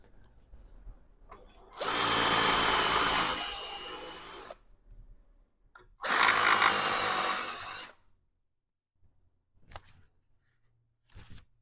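A power drill bores into an old tool in a workshop, with two loud, close bursts of whining drilling separated by a pause, then a few faint knocks and handling sounds.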